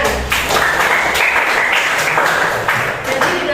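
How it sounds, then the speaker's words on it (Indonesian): Classroom applause bursts out as a dense, steady clatter of many hands clapping together, fairly loud and close, lasting a few seconds without pause. "tepuk tangan"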